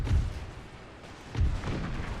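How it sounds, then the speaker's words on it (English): Cannon fire in the strategy video game Empire 2, heard as two deep, muffled booms about a second apart over a steady rumble of battle noise. "I don't think we're hitting with this cannon, unfortunately."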